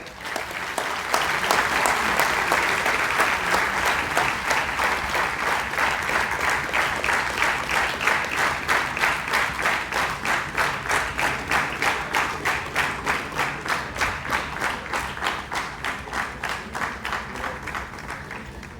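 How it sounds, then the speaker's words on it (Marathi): Loud applause from an audience at a community gathering, sustained clapping for nearly twenty seconds that settles into a rhythmic, synchronized beat toward the end and gradually fades slightly. "जरा जोरदार टाळ्या होत्या"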